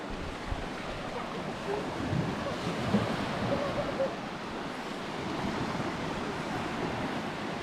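Ocean surf washes in a continuous, fairly faint rush, with wind buffeting the microphone and no clear speech.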